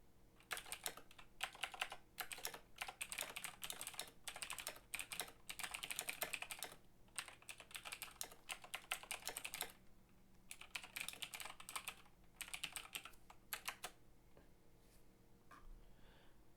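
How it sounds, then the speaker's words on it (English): Close-up typing on a computer keyboard: quick bursts of clicking keystrokes separated by short pauses, with no one talking. "Perhaps I should type that out as a sentence."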